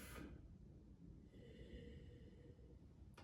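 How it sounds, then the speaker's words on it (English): A short nasal sniff up close at a glass of Catena Argentinian Malbec, followed by quiet, steady breathing against faint room noise. "Let's give it a sniffy sniff."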